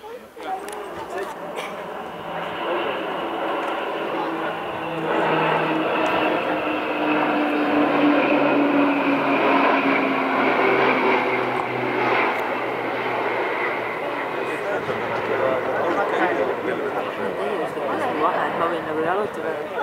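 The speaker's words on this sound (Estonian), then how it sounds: "Need lendavad suhteliselt lähedal üksteisele. 7 lennukit on seal." Military jets fly past at a NATO air show in Estonia, with a sustained loud engine roar that swells partway through and holds steady, while people talk nearby.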